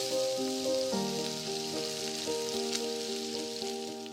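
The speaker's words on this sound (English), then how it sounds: "now I'm going to fry the onions" Chopped onions sizzle in a hot pan that has just browned venison, a steady close frying hiss running throughout with a faint tonal hum in the background.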